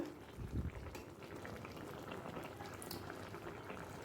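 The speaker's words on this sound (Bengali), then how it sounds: "ব্যাস এবার ফোটা পর্যন্ত অপেক্ষা করব গ্রেভিটা" Curry gravy for a raw banana and potato dum bubbles at a steady boil in a pan, with a continuous soft bubbling and popping texture throughout and a slightly louder burst near the start.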